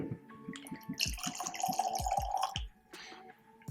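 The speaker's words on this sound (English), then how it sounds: "Pour you a wee dram." Highland Park 10 Viking Scars single malt Scotch whisky is poured into a glass, making a close, gurgling trickle with rising pitch and drips. It stops near the end and is otherwise alone.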